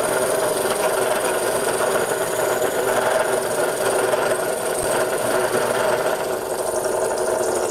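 A Ring Master lathe cutter cuts into a wooden picture frame disc on a slowed machine, giving a continuous, steady grinding and scraping drone at close range with no pauses.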